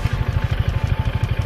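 Piaggio MP3 500 scooter engine idling close by, a steady low rhythmic pulsing with slight rises as the throttle is blipped, with no talking over it.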